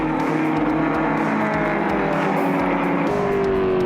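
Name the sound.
racing cars: Fiat 131 Abarth, Ford Escort on race track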